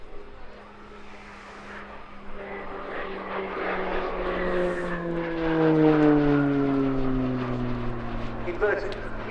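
A Slovenian Pilatus PC-9M propeller aircraft performs an aerobatic display at RIAT 2024, its engine note sweeping and shifting in pitch as it passes, while a commentator talks over it.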